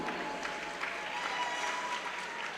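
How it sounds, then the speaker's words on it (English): Guests at a wedding reception applaud the father-daughter dance. The clapping is soft, distant and continuous, with a faint crowd murmur underneath. "How about a nice round of applause for these two?"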